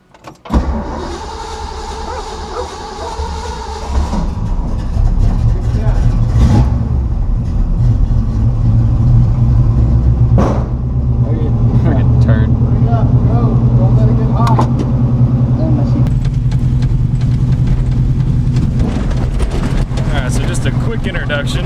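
A 1969 Ford Mustang Mach 1 Shaker, just revived after 18 years off the road, drives along with a steady low engine drone throughout, picking up after a quieter opening, while people talk over it inside the car.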